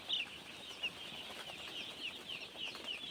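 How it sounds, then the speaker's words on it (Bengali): Baby chicks chirping nearby, a continuous faint high twittering with a few louder peeps, quiet and close with no talking. "দেখো বাচ্চা, মুরগির বাচ্চা।"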